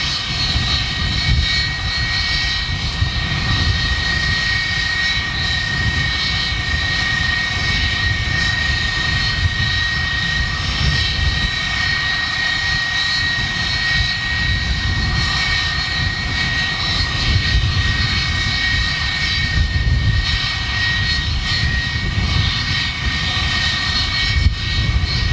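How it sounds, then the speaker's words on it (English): Airbus A320 jet engines taxi behind a Boeing 757 at Manchester Airport, a steady loud roar with a high whine running throughout, heard up close with no talking. "320 just making its way behind up behind this 757"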